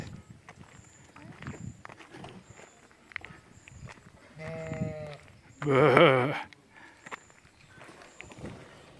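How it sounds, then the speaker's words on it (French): Two sheep bleats ring out in the middle of the clip, the second louder and longer, over low rumbling background noise and faint movement, in Messanges, Landes, France. "Et les moutons sur la droite."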